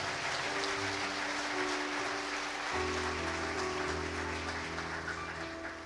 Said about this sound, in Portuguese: Aplauda o Senhor Jesus, porque Ele já te deu